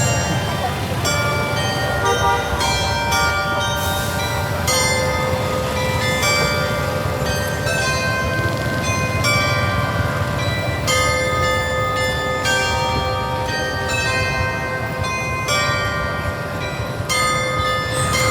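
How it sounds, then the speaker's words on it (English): Cathedral bells in Vietnam ring in a steady peal of overlapping metallic strikes, loud and continuous over a dense city background that includes traffic. "It's still under construction, which is very unfortunate, but the bells still go."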